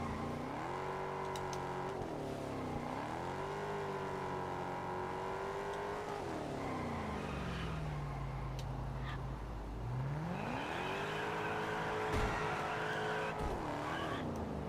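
A Mustang in the racing game Test Drive Unlimited Solar Crown, with a steady engine drone rising and falling as it revs and shifts, plus tire squeal during a hard turn, heard continuously without talk.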